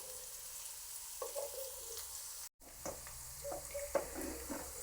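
Mustard seeds, cumin, fenugreek, shallots and curry leaves tempering in hot oil in an iron pan crackle and sizzle at close range, with a brief dropout partway and scattered pops and stirring clinks after.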